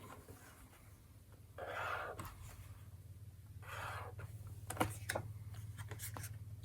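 A Sharpie S Note highlighter scratches across paper in short quiet strokes, two longer swipes then a few quick ticks, close up over a low steady hum.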